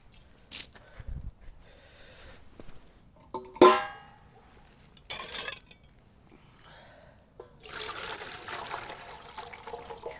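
Water splashes and trickles in short bursts, then a steady pour fills something for a few seconds, with clinks and handling noises nearby.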